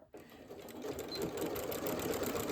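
A sewing machine stitches a quilted scrap table runner in a continuous, even run that starts abruptly after a brief silence, close and moderately loud.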